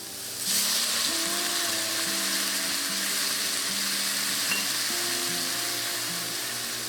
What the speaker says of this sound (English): Now it's time to add the red wine.